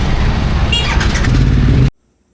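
Motorcycle engine rumbling close by as the bike rides off in Guatemala, a loud steady engine note with a brief higher whine, then cutting abruptly to silence.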